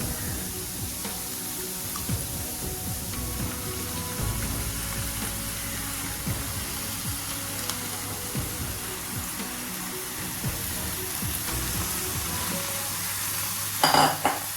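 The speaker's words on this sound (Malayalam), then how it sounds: "ഇതിലേക്ക് നമുക്ക് ചിക്കൻ ഇട്ട് കൊടുക്കാം" Chicken pieces dropped into sizzling masala with green chillies in a pan for chicken curry, a continuous close frying hiss with stirring scrapes and a louder clatter near the end.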